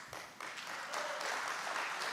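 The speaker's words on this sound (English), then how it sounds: "Big round of applause, guys, to cheer these two people who have put this show" An audience at a BNI business networking evening applauds the show coordinators on stage, a dense roomful of clapping that builds and holds steadily, slightly distant.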